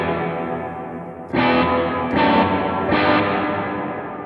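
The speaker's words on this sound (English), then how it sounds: "Next we have hall reverb." Electric guitar chords drenched in a spacious hall reverb, three strummed hits about a second apart, each tail lingering and washing into the next, played alone with no talking.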